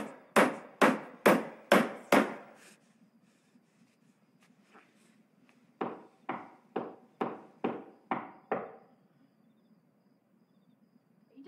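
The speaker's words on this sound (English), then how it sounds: "Are you done with the hammer?" Nails are hammered in two quick bursts of about half a dozen sharp, evenly spaced blows each, close and crisp, with a pause of near silence between the runs.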